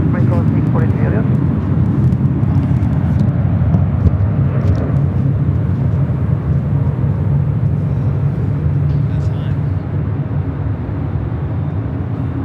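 An airplane taking off from runway 24 Left at LAX, heard as a loud, continuous low jet rumble and roar that holds steady throughout, with radio chatter underneath.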